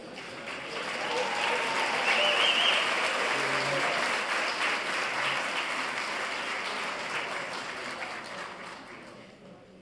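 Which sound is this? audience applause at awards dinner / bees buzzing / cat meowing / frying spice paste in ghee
audience applause at awards dinner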